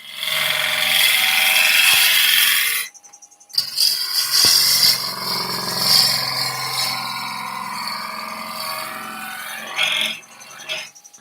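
A woodturning lathe runs loudly as a chisel is forced hard into the spinning wood, with a steady grinding roar that briefly drops out, then resumes with a harsher, scraping tone, close and continuous.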